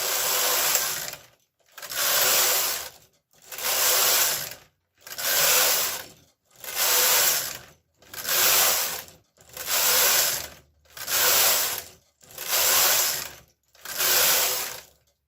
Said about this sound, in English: We have turned off all the cams and we're knitting 10 more rows.